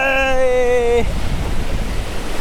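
Ocean surf washing onto a beach near Chavakkad, a steady wash of noise with wind, while a voice holds a sustained call over the first second before the waves continue alone.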